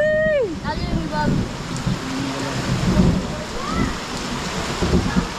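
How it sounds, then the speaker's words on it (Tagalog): Heavy rain falls during an outdoor storm with lightning about, a continuous dense hiss with low rumbling beneath, while voices and other sounds come through over it. "Inabot ng malakas na ulan."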